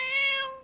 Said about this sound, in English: A cat, of course.